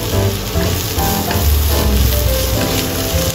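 Mushroom slices stir-frying with translucent onion in a hot pan for black pepper fried noodles, a steady loud sizzle with soft stirring scrapes throughout and no voices.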